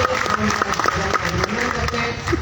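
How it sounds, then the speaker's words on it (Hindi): Audience clapping at a Hindi poetry gathering (kavi sammelan), a close, busy patter of hands mixed with crowd murmur and scattered voices throughout. "इसके सम्मान में आपकी तालियां बहुत कमजोर है, एक बार जोरदार तालियां बजाइए।"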